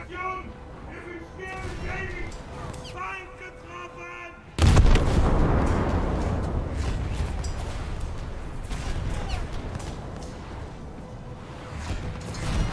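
Naval gunfire in a warship video game as a German cruiser fires at long range. A sudden heavy boom is followed by a long rumbling decay, and someone talks before and during the shot.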